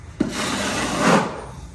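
Taping knife dragging joint compound across a textured wall during a skim coat, a single smooth rasping stroke lasting over a second, close and loud.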